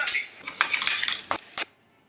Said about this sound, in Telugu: ఈ వంకాయలు కూడా వేసేసుకొని బాగా కలుపుకోవాలి